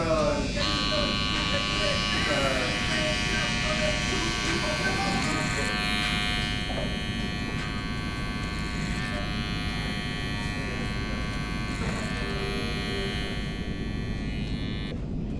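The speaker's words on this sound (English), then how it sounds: "I'm going to be using clipper over comb to help bring the fade together, make it more smoother" Electric hair clippers cutting hair clipper-over-comb during a burst taper fade, a close, steady buzz with tonal hum that wavers slightly as it passes through hair, with talk running underneath.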